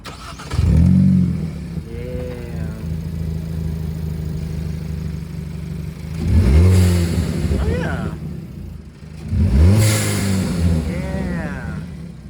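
A 2022 Hyundai Kona N fitted with an aFe Takeda intake and blow-off valve revs twice in close succession, each loud swell rising over a steady idle, with voices talking at the start.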